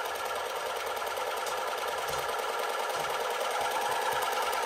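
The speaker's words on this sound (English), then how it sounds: "This toy has actually a working engine." A small working engine in a Mad Max-style wasteland RC toy truck runs continuously with a steady, buzzy, sewing-machine-like whir at close range, without talk.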